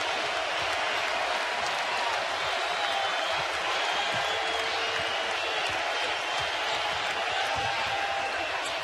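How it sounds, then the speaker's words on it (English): Basketball arena crowd at the XL Center during a Memphis college game, a steady loud roar of cheering and applause that fills the space without letup, with no clear voices standing out. "the crowd is on its feet here at the XL Center"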